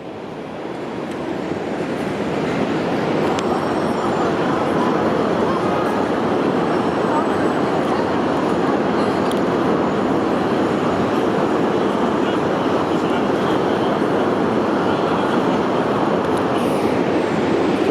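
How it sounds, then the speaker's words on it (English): Subway trains rumble across the lower deck of the Manhattan Bridge, a loud, sustained roar of wheels on track that builds in the first seconds and then holds steady. "you can actually hear the subway trains, which are going underneath the Manhattan Bridge on a lower deck"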